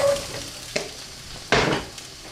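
Garlic drops into a pan of frying mushrooms and onions, making a close sizzle with two brief stirring scrapes and a louder hiss burst near the end.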